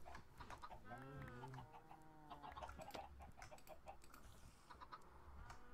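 Chickens in Minecraft cluck in short, rising bursts over quiet background game noise, fairly faint and with no talking.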